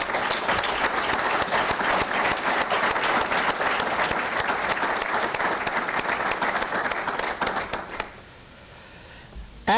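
Loud, sustained applause from a large audience at a Breakfast with Champions sponsor event, a dense wash of clapping that carries on for several seconds before cutting off abruptly near the end.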